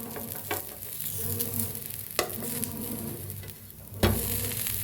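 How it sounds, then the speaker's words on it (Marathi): A dosa roasts in an oiled pan for a North Karnataka potato bhaji and dosa meal, with steady close sizzling and sharp scraping knocks of a spatula turning it. "तर छान दोन्ही साईडने असं भाजून घेऊया"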